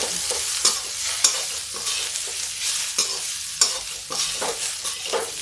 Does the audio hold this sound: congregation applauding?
no